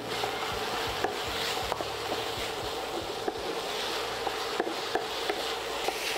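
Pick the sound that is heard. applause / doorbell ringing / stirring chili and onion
stirring chili and onion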